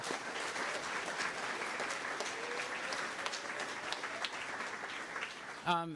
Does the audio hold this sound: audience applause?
yes